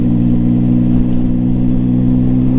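A Zontes 703F motorcycle engine runs on aggressive throttle, a loud, steady, close drone with strong low harmonics and little change in pitch over the short span.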